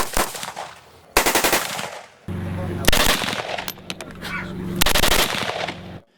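A machine gun fires on a shooting range in several sharp bursts separated by brief pauses, each burst loud and close, ending with a quiet tail.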